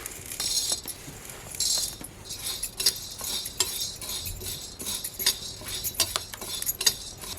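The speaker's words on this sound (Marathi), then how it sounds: "आता आपण आहे ना ज्वारी टाकतोय" Jowar grains are tipped onto a hot griddle and roasted, giving a run of light dry clinks, rattles and scrapes with sharp ticks scattered throughout, close and fairly bright, with no voices.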